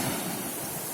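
Sea waves wash at night in a steady, close, hissing roar of surf with no other sound standing out.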